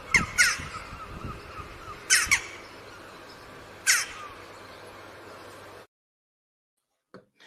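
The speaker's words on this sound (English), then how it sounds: "And now some jackdaws." Jackdaws give three loud, sharp calls spaced about two seconds apart over a faint outdoor background, then fall quiet before one faint distant call near the end.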